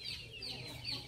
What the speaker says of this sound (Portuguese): E as galinhas não deixam eu falar não, cala a boca!